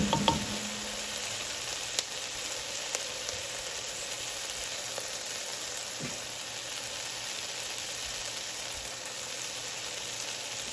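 Pork for sour sinigang with softening tomatoes cooking in a pan: a steady, even sizzle of frying throughout, with a couple of faint stirring knocks near the start, no voices.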